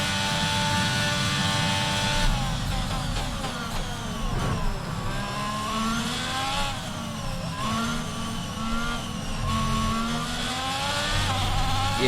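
Formula 1 race car engine in the F1 22 video game, a loud continuous high-pitched whine rising and falling with gear shifts and revs throughout, no talk over it.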